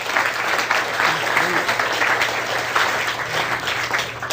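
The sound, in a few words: seminar audience applause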